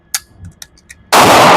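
At an outdoor shooting range, a few faint clicks and handling noises are followed by a single sudden, very loud pistol shot that cuts off abruptly.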